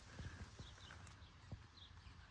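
Horses hitched to an old oat harvester clip-clop steadily nearby, their hooves making irregular knocks over a low rumbling background.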